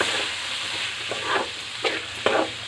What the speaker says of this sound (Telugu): టమాటా వేసి కలుపుతుంది